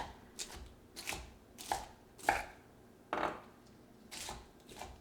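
A knife chops celery rhythmically on a cutting board, about eight firm strikes at a steady pace, close and clear with nothing else heard.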